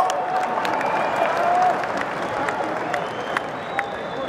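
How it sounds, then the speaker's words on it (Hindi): Crowd applause at an Indian political speech rally: a continuous bed of many hands clapping, with some crowd noise and a few sharper individual claps, moderately loud over about four seconds. "ठोको ठोको ताली ठोको"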